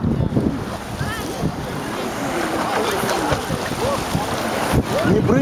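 Sea waves splash against a small boat while wind buffets the microphone, a rough, continuous rush with sharp spray bursts and children's voices calling and shrieking over the noise.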